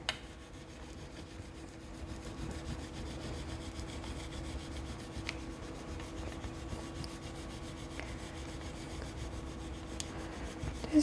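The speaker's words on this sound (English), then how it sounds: "Now, because there's so many little things, I'm going to really burnish it on there." A rubbing tool burnishes Cricut vinyl, steady soft scraping strokes close up at a low level, continuous with slight surges, no talking.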